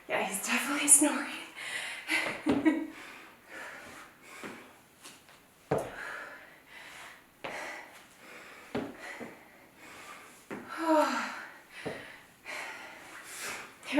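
A person snores in rough, snorting bursts at irregular intervals, close and fairly loud, with breathy gasps between them and talking mixed in.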